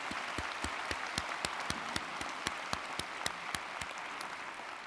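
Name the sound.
applause at commencement ceremony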